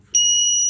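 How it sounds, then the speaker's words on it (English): A small buzzer on an Arduino breadboard project starts suddenly and holds a steady, shrill electronic tone, loud and close with no other sound. "here's our buzzer."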